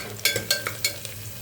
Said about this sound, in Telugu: ఇవన్నీ మంచిగా ఫ్రై చేసుకోవాలి. ఇలా ఫ్రై అవుతున్నప్పుడు